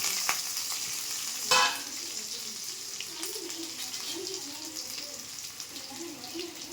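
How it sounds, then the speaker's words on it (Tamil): Finely diced potatoes fry and get stirred in hot oil in a pan with mustard seeds and curry leaves, making a steady close sizzle with a sharp scrape of the spoon near the start and soft stirring clatter throughout. "அந்த எண்ணெயிலேயே நம்ம ஃப்ரை பண்ணிக்கிட்டே இருக்க வேண்டியதான்"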